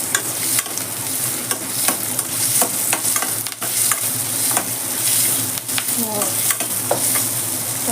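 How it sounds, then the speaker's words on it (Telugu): Thinly sliced onions fry in a pan for methi paneer masala, a loud continuous sizzle with frequent scraping stirs and small clicks throughout, no voices. "ఉల్లిపాయ కాస్త వేగేలోపు ఆల్రెడీ కాస్త కలర్ చేంజ్ అయింది, మంచిగా వేగుతుంది."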